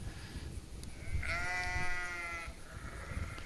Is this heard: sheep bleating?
yes